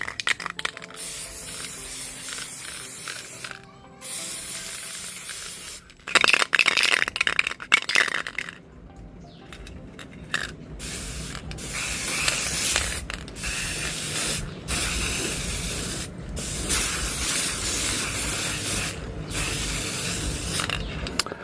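A refilled spray paint can hisses in repeated bursts of varying length, separated by short silences and faint mechanical clicks, close and fairly loud.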